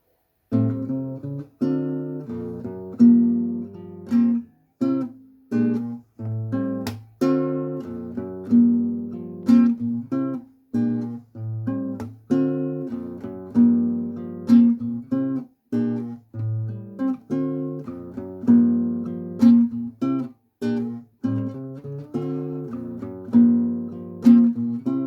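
Fingerpicked guitar plays a song: a bass string and two lower strings are plucked in a steady, repeating pattern of clear, ringing notes, heard alone and up close.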